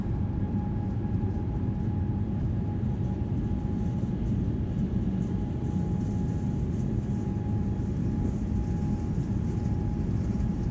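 An Airbus A320 rolls for takeoff in a flight simulator, a steady loud engine roar with rumbling runway noise and a faint constant tone, unbroken throughout.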